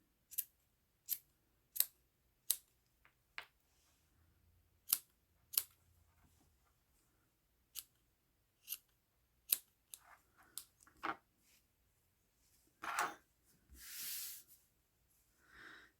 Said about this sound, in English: you can trim it up and make it as even as you can.